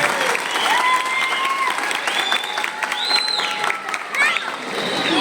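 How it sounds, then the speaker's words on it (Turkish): Wedding guests applaud the couple before a civil marriage ceremony, a lively clatter of clapping mixed with children's voices and whistling or shouting from the crowd, steady across the moment. "Şöyle güçlü bir alkış alalım öyle başlayalım."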